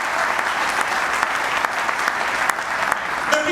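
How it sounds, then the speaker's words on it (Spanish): A church congregation applauds during a sermon, a steady, dense wash of many hands clapping together, fairly loud and continuous with no talk over it. "Si le van a dar el aplauso,"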